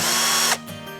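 A KIMO T-20 cordless drill driver whirs briefly and loudly with a high motor whine. It cuts off abruptly after about half a second, leaving a faint hum.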